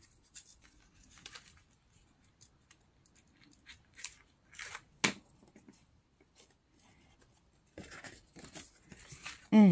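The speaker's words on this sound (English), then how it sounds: "I'm gonna take off the backing." Backing is peeled off an adhesive tack, making faint, crisp crackles and tearing sounds in short scattered bursts. A brief louder rustle of paper follows, all close and quiet.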